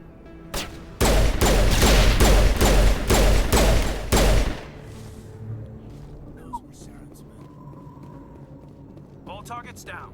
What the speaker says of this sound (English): I just threw a grenade again.